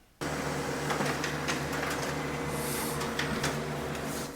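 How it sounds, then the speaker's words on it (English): A Brother HL-L2405W laser printer prints a page with a steady mechanical whir and hum, broken by small clicks and a brief higher whine, close and constant with no voices. "Usually it takes around 12 seconds to get the print out of this printer"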